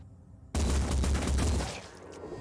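Gunfire erupts in the video game Phoenix Point, a sudden, loud burst of rapid shots that rolls on for over a second before tapering into a lingering rumble.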